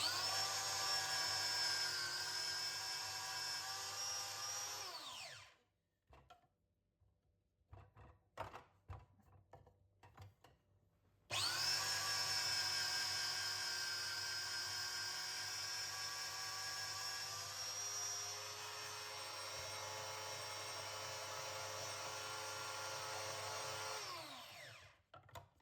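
An electric grater shredding food for a pizza whirs steadily in two long bursts, with a quiet gap of clatter between them; the motor's tone holds loud and even, then winds down at the end.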